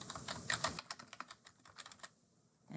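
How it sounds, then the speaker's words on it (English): Fingers type on a computer keyboard, a quick, irregular run of light clicking keystrokes heard close and fairly quiet, with no talking. "you're going to type Sophia Johnson"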